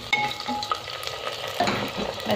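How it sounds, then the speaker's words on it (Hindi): Garlic sizzling in mustard oil inside an earthen pot while being stirred, a close steady crackle with scraping clinks of the spoon and a few louder stirring knocks. "अब ये जो इसमें से ये जो सिर्फ बीफ है ना ये हम डाल देंगे इस मटके में"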